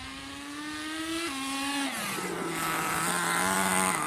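A small high-pitched nitro RC car engine revs and buzzes, its pitch stepping down as the 2-speed transmission shifts, then climbing again, loud and close.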